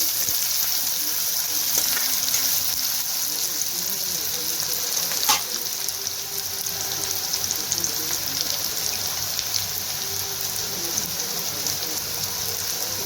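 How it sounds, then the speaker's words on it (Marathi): Onions sautéing in a pan, giving a continuous, close hiss and crackle of frying with occasional stirring scrapes, steady throughout. "कांदा छान परतून घेऊया."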